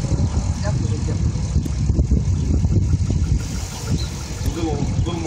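A 2007 Chevrolet Avalanche engine idles with a muffled knocking, a steady close rumble with a faint repetitive tick, while someone talks over it.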